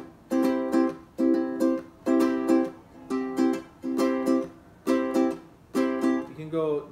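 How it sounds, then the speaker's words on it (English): Acoustic guitar played with a swing strum and palm mute: seven evenly spaced bursts of short down-up chord strums with a clipped, muted accent in each, ending with a brief rising chord slide. "then your swing strum will sound like this."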